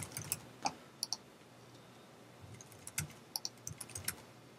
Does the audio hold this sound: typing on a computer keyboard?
yes